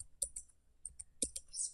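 A computer keyboard typed on during a command-line session, several sharp thin clicks spaced unevenly over a second or two, fairly quiet with no speech.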